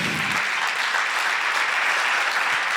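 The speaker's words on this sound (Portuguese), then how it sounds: "Você pode aplaudir a bondade de Deus?" Church congregation applauds in a continuous, dense wash of clapping, fairly loud and steady from start to finish with no voices on top.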